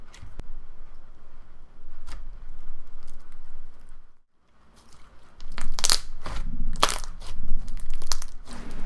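Crunchy butter slime being squished and poked, with bursts of crackling and popping, a short quiet gap midway, then louder, denser crunches close up.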